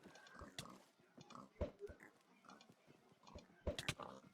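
Pigs in Minecraft grunt and oink during a Hypixel Party Games round, with a few short snorts scattered among clicks and other game sound effects at moderate volume.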